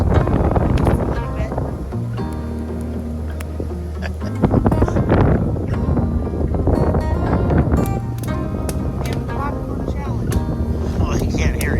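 Strong wind buffets and roars across the microphone at West Branch State Park, rumbling loudly and continuously, with voices talking underneath.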